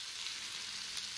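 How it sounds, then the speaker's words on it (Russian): Shrimp fry in a hot pan with a steady, even hiss of sizzling oil, close and soft, with no other sounds. "чуть-чуть поджарился и закидываем сюда наши креветки"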